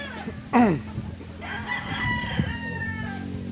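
A white pit street-breed gamefowl rooster at a game farm crows once, loud and close, a rising then falling call, followed by lower clucking and farmyard murmur in the background.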